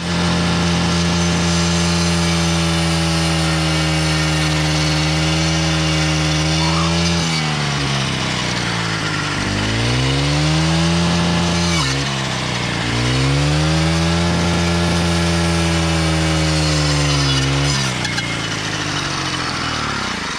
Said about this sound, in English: Whose weed eater you know is cutting through 2x6s?